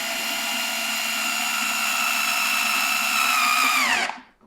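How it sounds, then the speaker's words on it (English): Power screwdriver driving a screw during a home appliance repair, a steady loud whine held for about four seconds, rising slightly before winding down abruptly and stopping. "Push down when you're tightening the screw."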